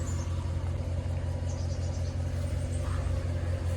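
A 2003 Yamaha Big Bear 400 4x4 ATV engine rumbling steadily while riding, a low continuous drone with constant wind and road noise.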